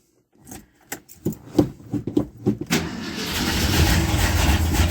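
A 1968 Ford XL engine cranking in a series of uneven, stuttering turns before catching and settling into a steady, rumbling idle, heard close by with no talking.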